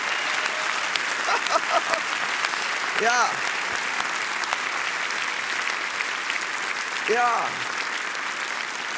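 Sustained audience applause fills the German Comedy Award lifetime achievement ceremony for a comedian, steady and full throughout, while a nearby voice speaks briefly a couple of times over the clapping.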